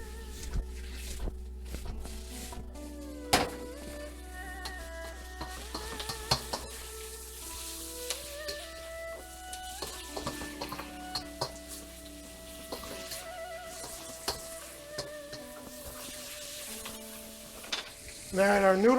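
Bok choy stir-frying in a pan for chow mein gives a steady, close sizzle for a long stretch, with occasional sharp scrapes and clinks of utensils against the pan and no talking.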